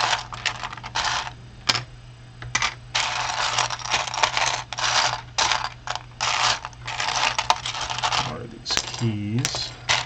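Plastic Gunpla building bricks from a Super 18K K80 set clatter and rattle as they are handled and sorted, a busy run of close clicking bursts with a brief faint voice near the end.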